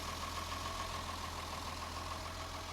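A classic Ford Fiesta engine idles on test, giving a faint, steady low hum with a even mechanical drone.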